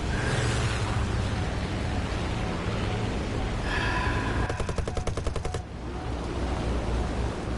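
Gunners aboard a B-17 bomber in a video game fire machine guns: a rapid burst of evenly spaced shots stands out for about a second over a dense, steady roar of engines and wind.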